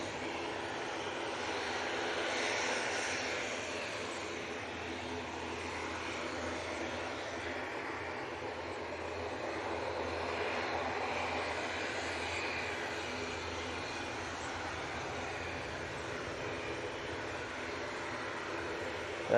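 A propeller aircraft engine drones steadily at Manchester Airport, a broad, continuous roar that swells gently around the third and eleventh seconds and holds at a moderate distance with no talk over it.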